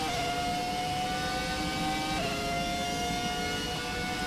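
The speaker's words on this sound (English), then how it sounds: "I do like how you can hear the other cars around you" Racing car engines in the video game F1 2017 whine continuously at high pitch from a Ferrari F2004 V10, with a brief pitch dip as one car shifts gear and other cars audible nearby.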